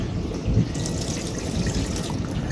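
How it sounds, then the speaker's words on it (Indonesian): Water runs steadily from a foot-washing tap in a train restroom, a continuous splashing hiss with no voices over it. "ada keran untuk membasuh kaki, jadi bisa digunakan untuk berwudu ya teman-teman"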